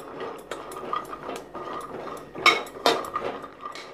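Almonds and cashews being dry-roasted in a pan for homemade badam mix powder, with a spoon stirring and scraping in repeated light clinks and scrapes, close and steady, no talking.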